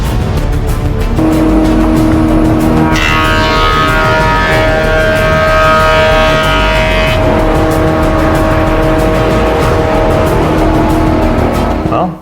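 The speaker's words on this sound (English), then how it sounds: "I just need to run it through a planer so I get a nice smooth flat surface on both sides" Glued beech boards fed through a wood planer, a loud, steady mechanical roar with a high-pitched cutting whine that rises in the middle and then settles back to the running hum.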